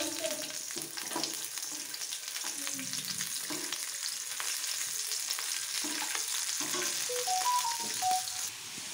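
Cauliflower florets frying in oil in a pan for a cauliflower and potato curry, a constant close sizzle with repeated stirring scrapes and clinks throughout, no talking.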